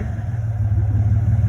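A Chevy S10 running with no muffler gives a brief, close, throaty low rumble that pulses steadily without any clear rev rise.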